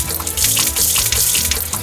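Water gushing from a watering can onto dragon fruit crops in a farming video game, a loud, continuous splashing pour lasting under two seconds.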